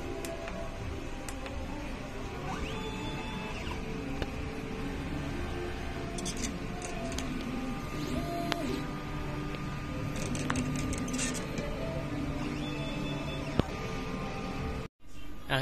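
A printer running a nozzle test after head cleaning, with a steady mechanical whir and small ticks and clicks going on continuously, ending in a brief cut near the end.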